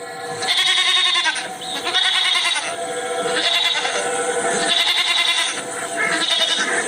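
Goats bleat while grazing, with repeated loud, close, wavering calls overlapping one another in bursts with only brief pauses between them.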